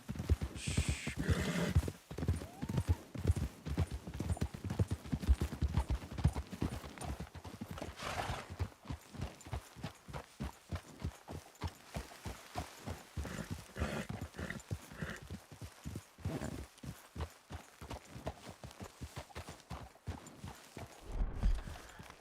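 Horse hooves clip-clop steadily on the ground in Red Dead Redemption 2, with a brisk, even rhythm that stays close and clear and a brief whinny near the start.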